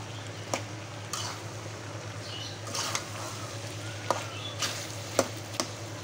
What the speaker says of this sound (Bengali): এখন আবার কী করতেছি, একটু চনা ভাজতেছি